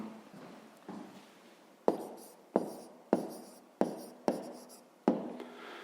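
A math answer is handwritten with a pen or pencil in a series of short, scratchy strokes, each starting crisply and fading, with about eight close, quiet strokes in a steady rhythm.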